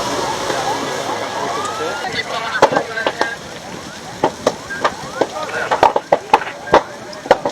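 Fire service vehicles at an airport fire drill sound wailing sirens at moderate distance, with rising and falling tones under a rumble of crowd and vehicle noise. Sharp, irregular clicks and thumps come more often in the second half.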